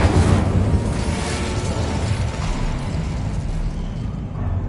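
Incendio fire spell cast in the Hogwarts Legacy video game, a loud, sustained whooshing roar of flame that flares at the start and holds steady for several seconds, with no talking.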